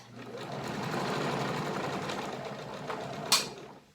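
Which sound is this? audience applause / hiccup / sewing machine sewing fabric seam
sewing machine sewing fabric seam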